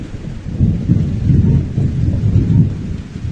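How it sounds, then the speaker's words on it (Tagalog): Loud, close thunder rolls continuously through a rainstorm, with rain falling steadily underneath and no voices. "Lalakas ng kulog gawi dun."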